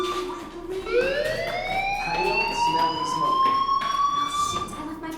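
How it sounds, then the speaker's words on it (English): A fire alarm in the game Life Is Strange wails loudly with a rising, sustained electronic tone that sweeps up then holds, with faint background chatter beneath. "Hey, do you hear that fire alarm?"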